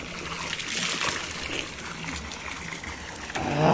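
Water splashes and trickles continuously nearby, a bright rushing spatter with small surges, like a mountain spring flowing over rocks in Himachal.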